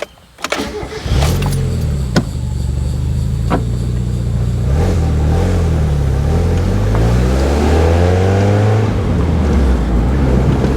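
A Mazda Miata with a noisy valve train, treated with Rislone oil treatment, starts up and pulls away. The engine drones loudly and steadily, its pitch rising and falling through the gears, with no talking.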